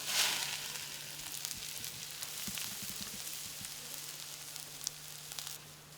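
Marinated ingredients dropped a little at a time into a hot pan for a Kerala dish, giving a steady bright sizzle with crackling pops and occasional stirring clicks, close and continuous.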